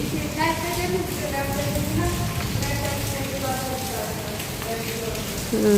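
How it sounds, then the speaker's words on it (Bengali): Steady rain patters across the whole stretch, with people talking over it and a brief louder bump at the very end. "বৃষ্টি নেমেছে আমরাও বের হয়েছি আর বৃষ্টিও নামছে"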